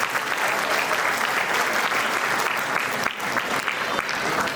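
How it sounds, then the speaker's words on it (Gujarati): Steady, dense applause from a gathered crowd at a family community get-together, continuous clapping filling the room for several seconds without a break. "જોરદાર તાળીઓ"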